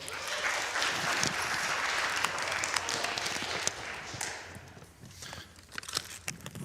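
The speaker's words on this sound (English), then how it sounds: "Give a round of applause to Noah." Audience applause fills the room for several seconds, dense and steady at first, then thinning into scattered individual claps toward the end.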